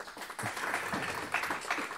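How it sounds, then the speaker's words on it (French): Audience applause at the first edition of the Espoir 35 meetings, a steady wash of clapping from a crowd filling the whole moment, fairly distant and even with slight swells. "On peut vous applaudir."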